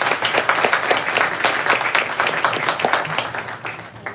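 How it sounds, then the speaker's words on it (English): An audience at a poetry reading claps in welcome, a close, fairly small round of applause with distinct individual claps that continues evenly and tapers slightly. "Please welcome her with a round of applause."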